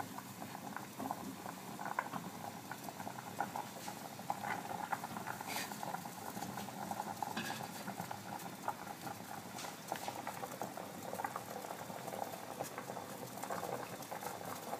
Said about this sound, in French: Nous allons incorporer dans notre casserole d'eau bouillante nos carottes fan